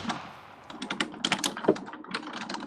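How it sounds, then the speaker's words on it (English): Loud, rapid typing on a computer keyboard during a Minecraft gaming session, with dense clattering key presses running throughout and bursts of quicker strokes toward the end. "Waterlubber, why do you type so loudly?"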